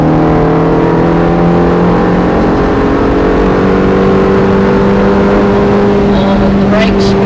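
Ferrari F430 engine pulling hard on the throttle around Thruxton circuit, a loud, close, sustained droning engine note with steady harmonics filling the whole stretch.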